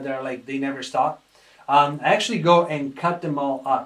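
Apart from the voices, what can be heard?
None of the usual background noises is heard.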